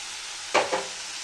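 Shrimp frying lightly in a pan, salted partway through: a steady soft sizzle with a brief louder crackling burst midway, likely from stirring, then a second smaller flare before it settles back to a quiet hiss.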